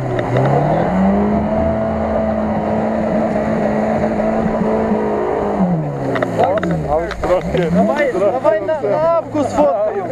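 An off-road vehicle's engine revs hard and steadily, then surges and falls in repeated bursts as it climbs out of a stuck spot at an off-road trophy competition in Vinnytsia, with voices shouting nearby.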